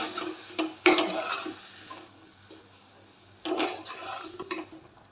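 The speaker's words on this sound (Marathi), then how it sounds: "आता व्यवस्थित आपल्याला मिक्स करून घ्यायचं आहे" A spoon scrapes and stirs a pea and potato masala with chili powder and garam masala in a pan, in quiet, soft bursts separated by pauses.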